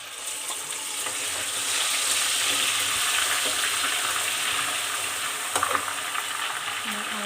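Chicken sizzles in hot oil as ginger garlic paste goes into the pan for a pickle, giving a loud, steady frying hiss with faint stirring and occasional louder crackles.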